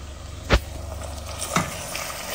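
Red adja stirred into a sizzling sauce in a pan, with a steady soft frying hiss and two brief scraping strokes of the spoon, close and moderately quiet, no talking.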